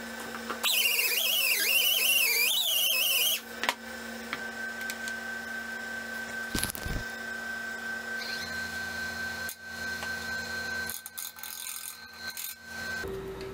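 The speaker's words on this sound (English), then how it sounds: "let me get that on a lathe" Wood lathe turning an apple wood bowl: a sharp, warbling tool screech against the spinning wood for about three seconds, then steady motor hum with scraping and occasional knocks.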